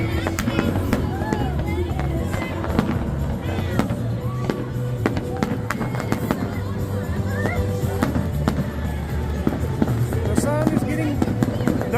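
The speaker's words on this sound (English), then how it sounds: "There it goes, fireworks." Fireworks bang and crackle over a crowd at Six Flags Over Texas during a total solar eclipse, steady loud bursts mixed with crowd babble and people talking throughout.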